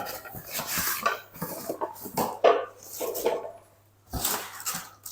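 Large cookware plates, a set of eight, are handled and stacked close by, with repeated clattering knocks and scrapes of dishware in uneven bursts and brief pauses between them.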